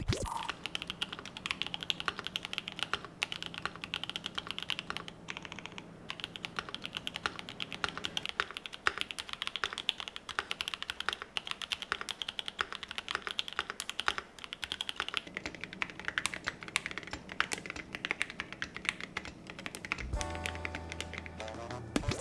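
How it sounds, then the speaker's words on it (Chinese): Rapid, steady typing on a mechanical keyboard fitted with Awekeys Viking Antiques metal keycaps and V1 switches, close-up clicks and clacks in dense runs, alone without speech, ending in a few separate key strikes. "接下来是大家最期待的打字音的环节啦"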